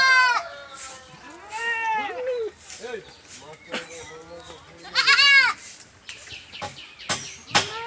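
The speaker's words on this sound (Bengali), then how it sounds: "ছাগলগুলো খুব সুন্দর করে খাচ্ছে" Goats feeding on a village road on a hot afternoon bleat several times, close by, with voices in the background between the calls.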